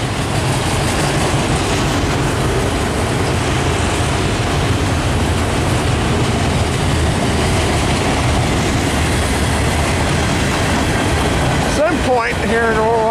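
A freight train with auto rack cars rolls steadily past nearby, a loud unbroken roar of wheels and rail clatter. Squealing tones rise briefly near the end, and a voice may sit faintly under the noise.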